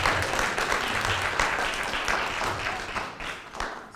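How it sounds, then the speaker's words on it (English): An audience at a high school hall of fame alumni awards ceremony claps for the honorees, a full, steady round of applause filling the room without pause. "Let's give those individuals a round of applause"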